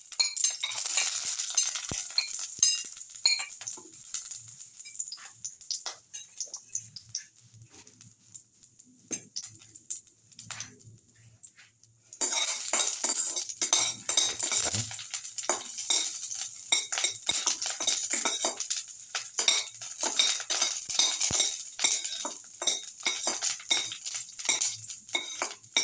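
Cashews fry in a pan and are stirred, with a constant hissing sizzle and scattered spoon scrapes and clinks. The sizzle dips quieter partway through, then comes back strong.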